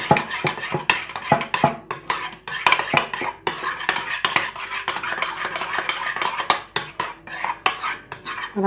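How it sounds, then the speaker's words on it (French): A utensil stirs warm melted chocolate in a bowl, quick clinking and scraping taps against the sides in a fast irregular rhythm, close and clear with no talking. "Donc mon chocolat est bien chaud. Voilà, donc je mélange bien."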